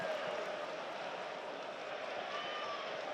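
Broad, steady crowd roar fills a football stadium during Sunderland AFC v Burnley FC, a continuous dense wash of thousands of voices holding loud and even without clear peaks.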